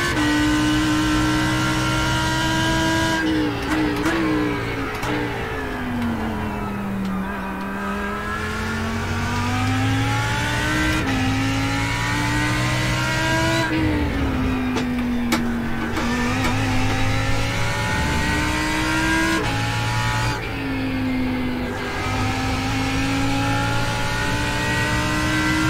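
GT race cars lap Laguna Seca in the iRacing sim, engines howling loud and close with repeated upshifts and downshifts, revs rising and falling through corners without a break.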